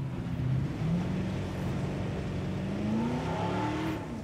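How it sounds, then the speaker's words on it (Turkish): A car engine straining uphill in the Jurassic World Evolution video game: a steady low engine drone with a slowly rising pitch and no break, heard alone. "Abi araba yokuşta zorlanıyor ya"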